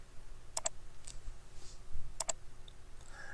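Two quick pairs of sharp mouse clicks, each a crisp double tick, separated by a short pause, quiet and close against near silence while working in the 3ds Max Customize menu.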